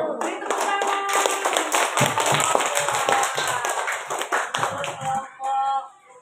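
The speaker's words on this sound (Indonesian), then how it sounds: "Beri tepuk tangan." Hands clapping in a classroom after a group presentation, a loose, uneven patter of a small group mixed with tapping sounds and tonal background noise, moderately loud and close, ending abruptly near the close.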